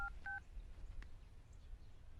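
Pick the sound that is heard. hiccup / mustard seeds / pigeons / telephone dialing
telephone dialing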